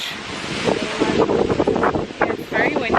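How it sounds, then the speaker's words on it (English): Gusty wind buffets the microphone with rough, rumbling blasts while a person talks over it. "It's very windy this morning,"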